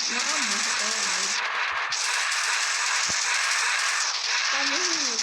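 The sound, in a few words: gunfire in the video game Zobiarena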